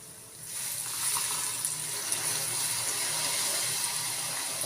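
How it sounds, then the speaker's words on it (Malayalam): Water pours into a hot pan of paneer masala gravy, setting off a rising hiss and bubbling sizzle that stays steady and loud throughout. "നമുക്കിനകത്തേക്ക് കുറച്ച് വെള്ളം ഒഴിച്ചു കൊടുക്കാം"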